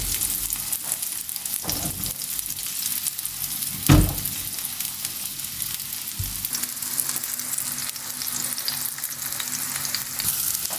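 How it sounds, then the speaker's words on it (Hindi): Burger patties frying slowly in a pan over a low flame give a soft, continuous sizzle with faint crackles, broken by one brief louder knock near the middle, quiet and close with no voices. "स्लो फ्लेम पे इनको कुक करेंगे।"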